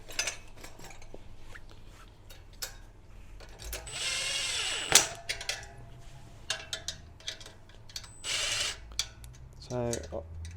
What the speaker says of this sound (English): nip these with a socket or a ratchet set rather than rely on the impact driver